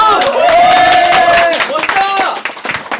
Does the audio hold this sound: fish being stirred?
no